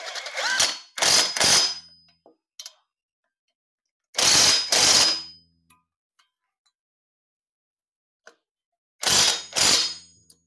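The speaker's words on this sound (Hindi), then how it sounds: "अभी ये तीसरा बोल्ट, अभी इनको प्रॉपरली टाइट कर दूंगा।" Bolts are tightened on the EGR valve of a Tata Vista Quadrajet with a ratchet wrench, heard as close, loud bursts of rapid ratcheting clicks in three groups separated by silence.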